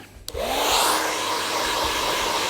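Hair dryer blowing steadily at close range while styling hair with product, a continuous broadband whoosh that starts abruptly after a brief quiet moment and holds its level throughout.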